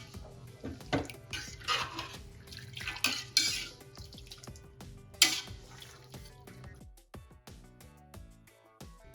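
A spiced meat mixture seasoned with garlic, turmeric, salt and red chilli is stirred in a cooking pot, giving close, irregular scraping and clinking of a spoon against metal, with occasional water splashes.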